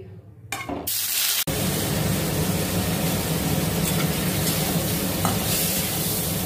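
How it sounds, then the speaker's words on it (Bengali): After a brief clatter, paneer hits hot oil in a pan and a loud, steady sizzle takes over, continuing close and unbroken to the end. "এবারে পনিরটা আমি ভেজে নেব।"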